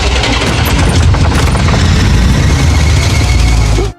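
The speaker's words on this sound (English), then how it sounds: "Charlotte tried several times to start the engine." A pickup truck engine turning over and catching, then roaring loudly and steadily with a deep, continuous rumble that holds for several seconds before cutting off abruptly.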